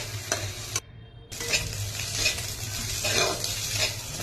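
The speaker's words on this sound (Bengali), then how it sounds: "ডিমটাকে একটু নাড়াচাড়া করে নেব।" Two eggs stirred and fried in a little oil in a wok: a steady close sizzle with scraping stirs, dropping out briefly near the start before resuming loudly.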